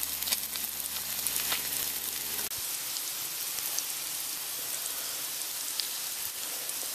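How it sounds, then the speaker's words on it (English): Thick cut bacon fries in a pan with a dense, even sizzle and scattered pops. A low hum drops out early and the crackle carries on steadily alone. "we're going to just let this go until this thick cut bacon is nice, dark, and crispy"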